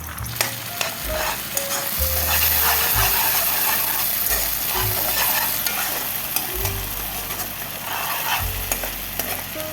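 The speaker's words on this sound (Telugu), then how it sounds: "అల్లం వెల్లుల్లి పేస్ట్ వేసుకుందాం. కలుపుకొని పచ్చివాసన పోయేంత వరకు కలుపుకొని ఉంచుకుందాం." Ginger garlic paste frying in a pan for a Kerala-style coconut milk chicken curry, a steady loud sizzle with repeated scraping stirs throughout, no voices.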